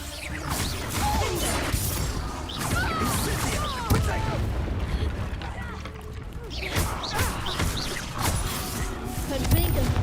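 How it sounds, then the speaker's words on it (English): Hogwarts Legacy spell combat with Confringo blasting spell explosions, a constant dense wash of booms, crashes and whooshing magical effects with voices speaking throughout. "Confringo!"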